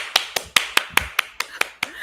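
One person clapping by hand, about ten sharp, evenly spaced claps close by in a quiet room, with no other sound around them.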